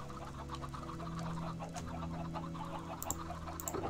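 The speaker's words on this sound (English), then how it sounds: "So all these chickens will grow up to be nice and big and delicious" Chickens clucking in Minecraft, a cluster of soft, repeated farm-bird clucks heard close over a steady background hum.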